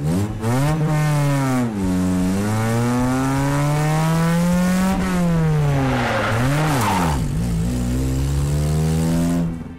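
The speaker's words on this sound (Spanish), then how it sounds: "Se va a revolucionar mucho el auto y vamos a llegar máximo a 50 km por hora." A car engine revs hard as the car accelerates in reverse in first-gear-like short gearing up to about 50 km/h, a loud close whine rising in pitch, dipping briefly at shifts or lifts, with tire noise and no talk.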